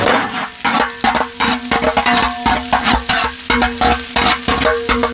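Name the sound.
finely chopped onion frying in cold-pressed sesame oil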